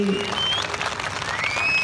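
Applause from a gathering, steady clapping under a voice talking at the same time, fairly loud and continuous.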